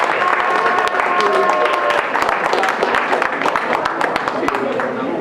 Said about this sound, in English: give Bob a huge round of applause